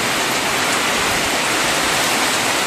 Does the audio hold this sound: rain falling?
yes